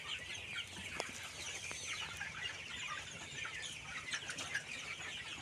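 Poultry-farm chickens chatter and cluck faintly and continuously as a dense flock, with occasional scratchy flutters and a low steady hum beneath.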